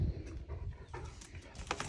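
A dog pants in quick, rough breaths close by, a short burst of rhythmic huffing with no voices around.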